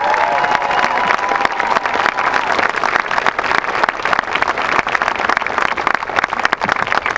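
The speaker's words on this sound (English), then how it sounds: "One more round of applause for them" Crowd applause and cheering for the 2014 senior class of the Sound of Sun Prairie, dense continuous clapping with scattered shouts and whistles, loud and sustained for the whole stretch.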